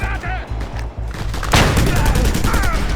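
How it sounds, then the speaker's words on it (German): A gun turret fires in Just Cause 2. Rhythmic pulsing shots at first give way to a dense, continuous barrage of rapid gunfire that stays loud to the end. "Das Geschütz schießt uns in Stücke!"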